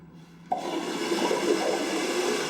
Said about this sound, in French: Allons voir la chasse d'eau.